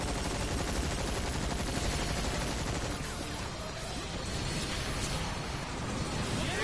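Continuous dense gunfire from the video game Earth Defense Force 5, a loud sustained barrage of rapid shots filling the whole stretch with little pause.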